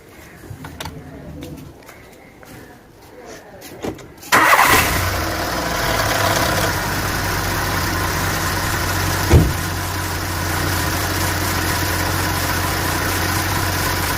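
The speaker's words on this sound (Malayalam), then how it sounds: "ഇനി നമുക്ക് വണ്ടിയുടെ എഞ്ചിൻ ഒന്ന് സ്റ്റാർട്ടാക്കി നോക്കാം" Quiet background sounds, then an engine cranks and catches abruptly, settling into a steady idle that runs on to the end with a brief rev.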